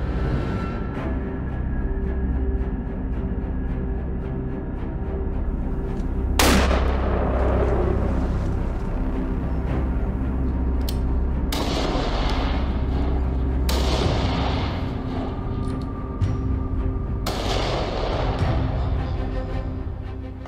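Hunting rifle shots, .22LR, heard as four sharp, separate cracks spaced several seconds apart over a steady background hum in an outdoor setting.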